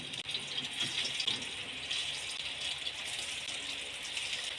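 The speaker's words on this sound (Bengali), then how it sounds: "তেলটা গরম হয়ে গেছে আর পনিরগুলো আমি ভেজে নেব।" Paneer frying in hot refined oil in a kadai gives a steady, fairly quiet hiss and crackle that runs evenly throughout, with no talking.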